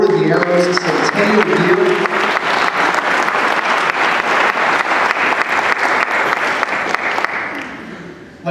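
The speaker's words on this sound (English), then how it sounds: "Can we get a round of applause for the Order of the Arrow's centennial year?" Sustained audience applause at a centennial celebration for the Order of the Arrow, a dense steady clapping from a large crowd that holds for several seconds and then tapers off near the end.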